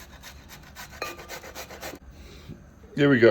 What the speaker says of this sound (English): So what we've got here is a standard grater and half a head of cauliflower